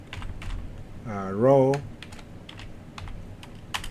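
Steady clicking of computer keyboard keys as VBA macro code is typed, with a brief spoken word partway through.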